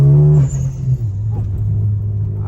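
A manual car cruising in fourth gear at about 40 on a highway. It gives a steady low engine drone with rising rumble, heard from inside the cabin, with no talk.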